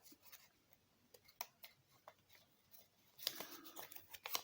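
Paper for an origami butterfly is creased and folded by hand, with soft crinkles and sharp little snaps scattered irregularly, then a busier rustle near the end, quiet and close.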